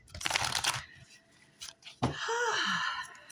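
Tarot cards are shuffled in a brisk riffling burst, then after a pause a card is pulled and slid across with a softer rustling swish, close and clear.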